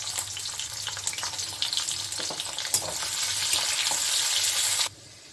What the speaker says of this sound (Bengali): আর অল্প তেল দেব, আর দিচ্ছি আমি এখানে পেঁয়াজ